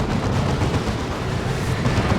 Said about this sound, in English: That plasma cannon doing some really good work actually.